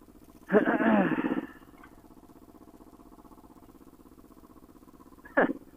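A motorcycle with an exhaust leak drones with a low, steady engine note while riding. A louder, rougher burst comes early, and a short sharp spike arrives near the end.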